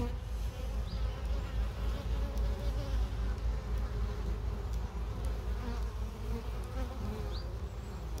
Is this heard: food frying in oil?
no